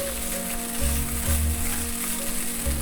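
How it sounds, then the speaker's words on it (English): Tofu scramble frying in a pan, a steady close sizzle with soft bumps as it is stirred, over a constant low hum. "I just want to stir the tofu until it's thoroughly heated"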